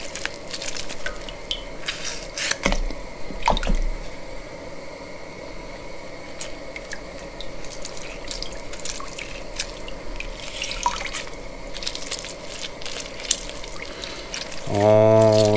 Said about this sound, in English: I'm going to squeeze in my 4 lemons. Try to get all that lemon juice in there.